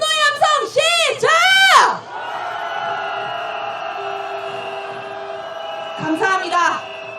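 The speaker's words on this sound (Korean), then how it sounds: "윤석열에 대한 분노의 함성 시작!" Angry chanting shouts rise from a crowd at a candlelight impeachment march, a burst of loud sustained yells at the start, a quieter stretch of background noise, then another short round of shouting.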